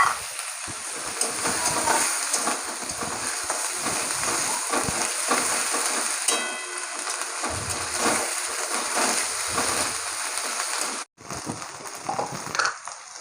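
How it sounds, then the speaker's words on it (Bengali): Onion, garlic and tomato fry in a pan for a Bengali fish curry, with a continuous close sizzle and occasional stirring scrapes. "এখানে পেঁয়াজ আর টমেটো ভাজা হয়ে গেছে"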